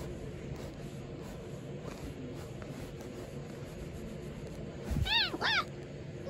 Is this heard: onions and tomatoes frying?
no